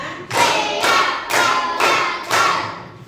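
Classroom group of pupils clapping together in five counted bursts, each a dense loud burst of many hands, evenly spaced about half a second apart with short gaps between.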